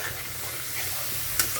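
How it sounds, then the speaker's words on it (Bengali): Onion paste fries in a pan, giving a steady, soft sizzle with light stirring throughout and one brief scrape near the end. "এটাকে আমি একটু খালি ভেজে তারপর বাদ বাকি মশলাগুলো সব দিয়ে দেবো।"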